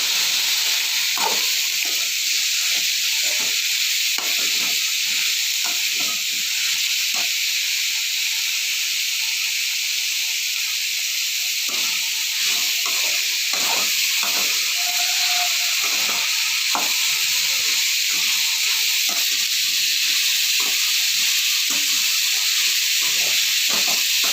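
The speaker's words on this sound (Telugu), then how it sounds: "సొరకాయ ముక్కలను యాడ్ చేసుకోవాలి. చూడండి, వేసుకున్నాం కదా." Bottle gourd pieces frying in oil in a pan, a loud continuous hiss and sizzle close up with scattered small crackles and pops throughout, no talk.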